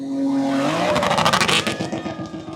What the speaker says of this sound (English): If you heard what I heard, you heard rev limiter